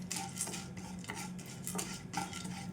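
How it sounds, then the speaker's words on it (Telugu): Chana dal and urad dal roasting in a pan, stirred steadily so the dry lentils rattle and scrape against the metal in a continuous close-up texture. "ఈ రెండు కూడా మంచిగా వేయించుకోవాలండి."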